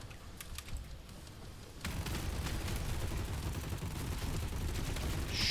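Rapid machine gun bursts in the video game Hellbreak, a dense continuous rattle of shots that thickens and grows louder partway through, with no voices over it.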